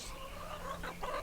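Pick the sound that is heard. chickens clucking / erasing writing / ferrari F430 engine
chickens clucking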